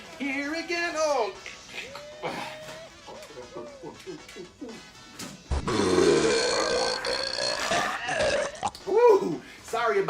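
Repeated loud burps with grunting, croaky tones, mixed in with a man chatting and exclaiming, close to the mic in a casual hangout setting.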